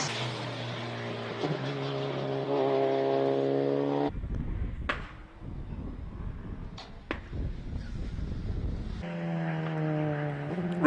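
A Honda Civic Type R race car runs a hill climb in Cape Town, its engine whining up through rising gear-change sweeps, dropping into a stretch of rough broadband roar with sharp pops, then climbing again.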